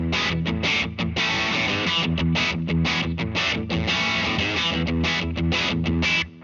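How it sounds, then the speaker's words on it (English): An electric guitar plays choppy, rhythmic chords with mild overdrive grit, loud and close, stopping abruptly at the end. "Now I want to demonstrate what the cleaner overdrive sound sounds like."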